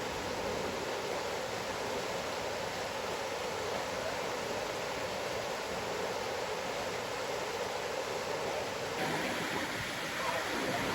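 A 4x4 fords deep floodwater at Cahills Crossing in Kakadu National Park, a steady loud rush and churn of water filling the scene without pause, shifting slightly near the end.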